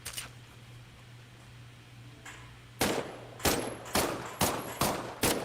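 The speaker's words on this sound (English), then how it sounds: "why don't you test fire your weapon?" Test-firing a weapon in a war video game: after a quiet stretch with a low hum, six loud, evenly spaced single shots ring out close by, each followed by a brief decay.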